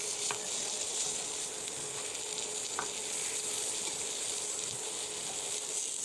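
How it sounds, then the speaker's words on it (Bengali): Eggplant slices fry in a pan of oil on low heat, giving a soft, steady sizzle throughout with a few faint clicks of utensils and no talking. "খুব সাবধানে বেগুনগুলো ভাজতেছি যেন ভেঙে না যায়"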